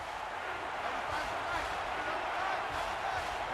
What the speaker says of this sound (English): And this crowd is going absolutely crazy.